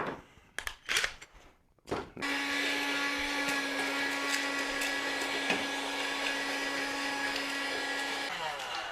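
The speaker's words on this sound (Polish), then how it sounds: "może się okazać, że przyda nam się taki odkurzacz." A household vacuum cleaner, used to tidy up while a DIY clay flower-pot heater is made indoors, starts after a few knocks and clatters and runs as a loud, steady whine before slowing down near the end.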